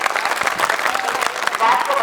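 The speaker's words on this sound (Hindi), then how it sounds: "बच्चों की आवाज तालियों" Children clapping and calling out at a school results celebration for their teacher, a busy wash of applause with excited young voices mixed through it.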